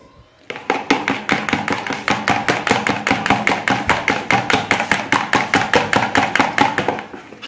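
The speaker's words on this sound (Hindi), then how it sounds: "अब हम अंडे को अच्छी से बीट करेंगे।" Eggs beaten briskly in a bowl with a whisk or fork, a steady fast rhythm of sharp clinking taps against the bowl's side that runs continuously for several seconds after a brief quiet start, fairly close and loud with no talking.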